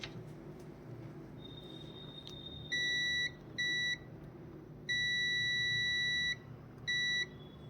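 A multimeter in continuity mode gives several short, clear electronic beeps of uneven length while probing a laptop motherboard for a short near a removed capacitor, over a steady low workshop hum.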